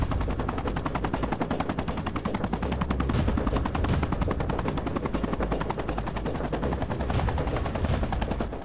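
A Bell 206 JetRanger helicopter flies past with a loud, steady rotor chop and a whining turbine running without a break, with no voices over it.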